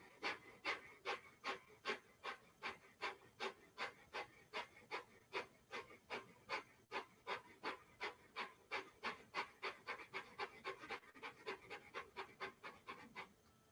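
Rapid Breath of Fire breathing exercise: quick, forceful exhalations repeat at roughly three per second in a steady, unbroken rhythm for the whole stretch, close up and with no talking.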